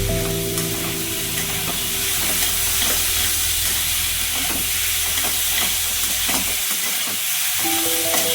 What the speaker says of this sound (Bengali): কিছুক্ষণ নাড়াচাড়া করে নিই